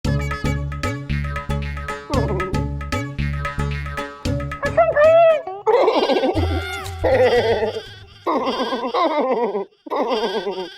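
A man imitates a goat, letting out a run of loud, wavering bleats at close range, accompanied by a musical backing in a comic courtroom scene.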